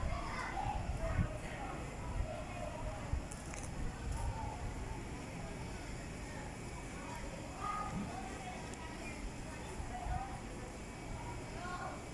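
Children's voices rise in a distant, continuous crowd babble outside a school at dismissal time, with scattered shouts over a low traffic hum and someone speaking occasionally.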